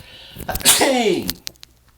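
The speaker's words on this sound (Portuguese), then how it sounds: "Vou espirrar." A single loud close sneeze from a man, a sharp intake building into the burst, followed by a short trailing sound and faint clicks.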